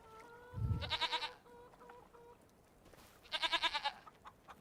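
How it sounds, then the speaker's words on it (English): Two groups of quick bleating calls from young sheep in Farming Simulator 25, separated by a pause, with a low thump and faint tones between them. "And some teenage sheep."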